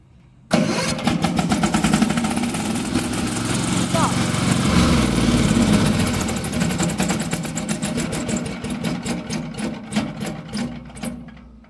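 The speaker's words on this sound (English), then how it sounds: "First is electric start." A Vigorun VTC800-160 rubber-track remote-operated slope mower engine cranks on electric start and catches, settling into a loud, steady running drone that holds for the rest of the clip.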